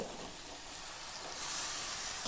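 Fried vegetables go into a pan of hot spice masala that has released its oil, for a Bengali vegetable navaratna curry. A soft, steady hissing sizzle swells slightly toward the end, with no talking.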